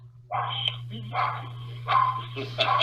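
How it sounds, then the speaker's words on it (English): A dog barks in short bursts a few times at moderate distance, over a steady low electrical hum, with some voice-like sounds mixed in. "What's she barking at?"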